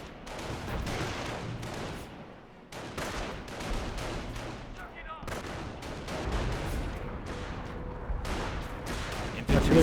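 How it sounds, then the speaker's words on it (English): Artillery barrage in the real-time strategy game Company of Heroes, heard as a dense run of booming impacts and gunfire bursts across the whole stretch, loud and continuous with brief lulls, mixed with battle clatter. "Artillery barrage back there."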